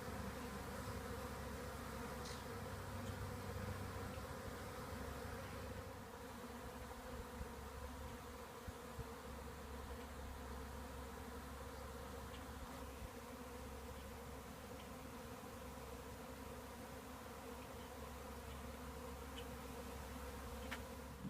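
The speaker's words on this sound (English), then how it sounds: "there's a lot of bees fanning now" A honeybee swarm fans its wings at the entrance of a hive box, making a dense, steady buzzing hum that holds close and loud for the whole stretch, with no talking.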